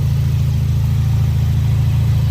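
A 2017 Ford Focus RS with a newly replaced catalytic converter and turbo oil feed idles steadily nearby. The engine gives a loud, even low rumble that holds unbroken with no talk.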